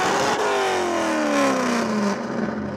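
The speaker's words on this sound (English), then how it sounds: "this LS is a whole lot cooler because it's got a custom 8-into-1 header and the car sounds absolutely" Custom Buick fitted with an LS V8 and a custom 8-into-1 header, revving hard with a loud rising and falling exhaust wail, close and steady throughout with no talk.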